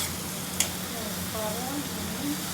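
A tadka of dry fruits for shahi paneer heats in a pan, with a soft, low sizzle running throughout, a sharp utensil clink early on and faint tonal squeaks.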